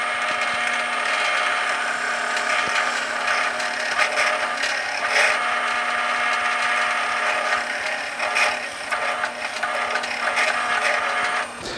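Continuous mechanical whine of a drill boring into wood with a 1/4-inch Forstner bit, steady and close, with small crackly bursts as the bit bites in.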